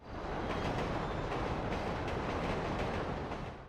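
A train in the video game GTA 5 rolls past as a dense, steady rushing rumble with faint rhythmic rail clatter, fairly quiet and alone, fading out at the very end.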